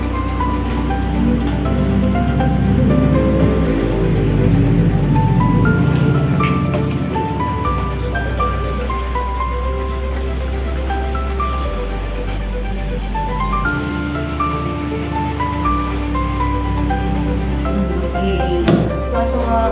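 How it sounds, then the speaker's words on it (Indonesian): Three liters of rabbit urine pour steadily into a container for homemade liquid organic fertilizer, a continuous splashing, trickling stream lasting the whole stretch at close range. "Yang pertama, kita masukkan 3 liter urin kelinci."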